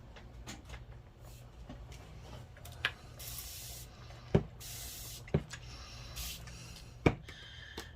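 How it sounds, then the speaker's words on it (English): A hand-pumped spray bottle misting water, several crisp hissing bursts of varying length spread over several seconds, up close, with a few sharp knocks and clicks between them and no talking. "then I'm gonna grab my spray bottle"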